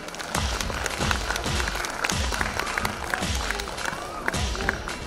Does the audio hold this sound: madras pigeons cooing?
no